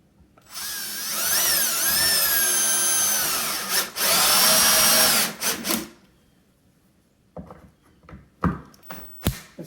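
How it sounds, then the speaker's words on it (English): A power drill drives a screw into wood on a door hinge mortising jig: a loud, sustained whirring run with rising and falling pitch for several seconds, a brief pause, then a short second burst, followed by a few sharp knocks and clicks. "And I'll just run a screw in here."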